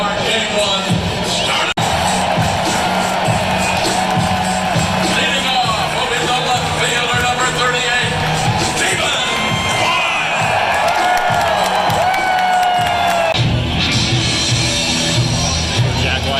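A baseball stadium crowd at Progressive Field cheers and shouts before the first pitch of a Guardians versus Rays wildcard game, a loud, dense, continuous roar with whoops and children's shouts, and voices talking nearby.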